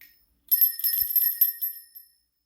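A small original brass bell rings alone, a bright jingling tinkle that lasts about a second and a half and then stops.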